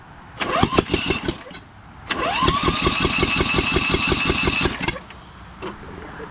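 A Lesco Viper 54-inch zero-turn mower engine with no muffler cranks in a short burst, stops, then cranks again longer and catches briefly with loud, raw chugging before cutting out.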